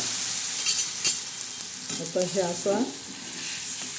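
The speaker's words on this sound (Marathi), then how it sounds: "आता हे मसाला असा परतणार आहोत." A masala of red chili powder, turmeric and salt is sautéed in a pan for a prawn and brinjal curry, with sizzling and scraping stirs. A person speaks briefly over it.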